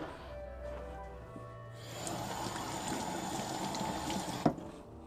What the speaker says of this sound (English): Sorry for the water in your ears.